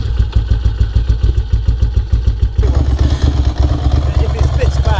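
A 2024 KTM 500 EXC-F dirt bike engine runs on a cold day, a loud rhythmic single-cylinder thump that climbs into a harsher, busier note partway through, with people talking over it.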